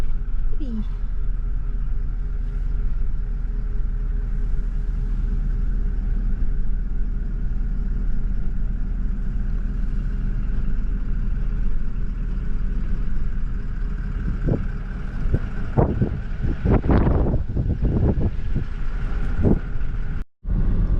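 Steady low engine and road rumble of a car driving through the outback Pilbara landscape of Western Australia, heard from inside the vehicle, with a few louder knocks and bumps toward the end.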